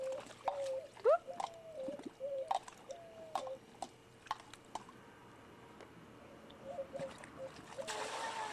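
Intermittent water splashes and drips close by as a bike is washed, with scattered bird chirps and brief voices in the background.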